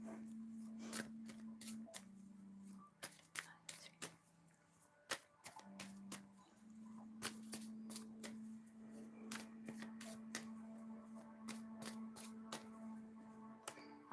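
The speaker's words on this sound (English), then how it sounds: "Making sure you got a good shuffle" Tarot cards are shuffled by hand in a string of quick, crisp riffles and taps, near and faint, with pauses between bursts over a low steady hum.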